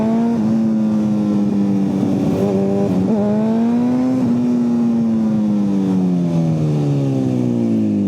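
A Honda superbike engine revs steadily, its strong harmonic tone rising, dipping and then sliding gradually lower as the throttle eases, loud and close with no talking.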